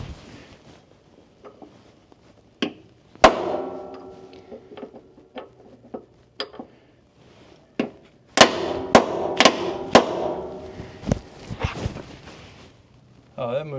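A hammer strikes a prick punch to mark a part on a Kenworth K100E truck, giving a few sharp, separate metallic taps followed by a quick cluster of hits, close and loud in a quiet shop.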